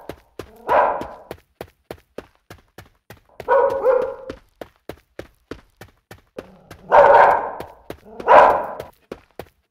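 A dog barks four times in a Japanese indie horror game, loud spaced single barks over steady rhythmic footstep-like thuds in an outdoor scene.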